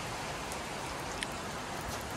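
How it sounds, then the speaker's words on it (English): Rain falling steadily during an outdoor car wash, a constant broadband hiss with no distinct drops standing out, moderately quiet and unbroken, with no voices. "A lot of rain, but oh well."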